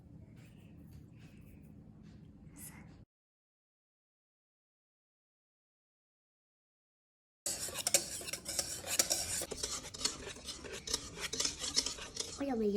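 Cake mixture being stirred in a bowl with cutlery, soft scraping at first, then a long silent gap, followed by busier clinking and scraping strokes close by.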